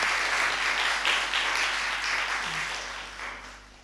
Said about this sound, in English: Let's give Luca a round of applause as well.